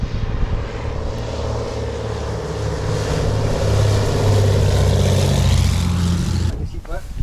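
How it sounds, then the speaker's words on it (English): A small passenger plane arrives at a remote Scottish airfield, its engine and propeller drone rising into a loud, steady roar over several seconds before cutting off abruptly near the end, with people talking nearby. "Well, our plane is here."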